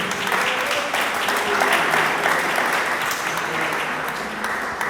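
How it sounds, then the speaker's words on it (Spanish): A church congregation claps together during a sermon, giving steady, dense applause that fills the space for several seconds with no voice over it. "Dele palmas al Dios del cielo."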